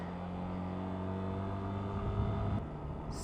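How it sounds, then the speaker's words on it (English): Road traffic with a steady, low engine drone throughout and a vehicle swelling past more loudly near the end. "like now with all this bloody traffic everywhere"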